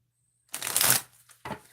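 Tarot cards are shuffled in quick riffling bursts, one longer flurry followed by a short second burst, close and crisp against near silence.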